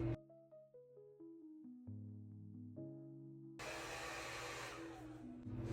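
After a few soft musical notes, a hair dryer on its low cool-shot setting switches on with a steady airy rush that continues to the end, fairly quiet overall.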